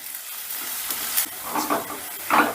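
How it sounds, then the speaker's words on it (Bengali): Onions fry in a pan over a medium gas flame, a soft close sizzle that swells into brief louder spurts as they are stirred. "এবারে গ্যাসের আঁচটা মিডিয়ামে রেখে পেঁয়াজটা আমি বেশ লাল লাল করে ভেজে নেব।"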